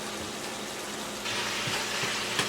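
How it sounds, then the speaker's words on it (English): Pot of water with noodles boiling, a steady broadband rush and bubbling hiss that grows a bit louder halfway through, with a few soft low knocks, continuous and close with no voices. "Those noodles will have to boil for 8 to 10 minutes."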